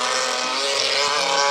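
A CIK-FIA racing kart engine with an exhaust fault accelerates at Laitse Rally Park during an Estonian championship and Baltic Cup round, giving a loud, continuous, raspy buzzing drone with no pause.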